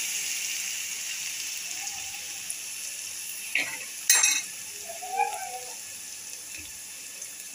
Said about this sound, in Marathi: ते टाकणार आहे। आता ह्याला छान असं तेलावर आपण परतून घ्यायचं आहे